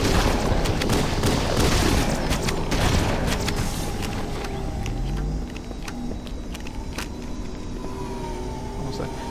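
Rocket launcher fire from a Flood enemy in the Halo video game, a dense barrage of booming blasts and gunfire rattling over a loud rumbling battle background that eases slightly after the first half.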